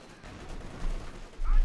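Rapid .50 cal machine gun bursts from the real-time strategy game Company of Heroes 2, clattering under a busy battle mix with an engine rumble, the fire swelling louder toward the end while a commentator speaks.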